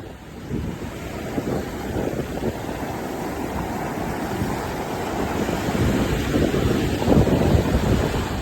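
Rough ocean waves at a beach in Punta Cana, a steady loud roar of surf mixed with gusty wind buffeting the microphone, building slightly stronger toward the end.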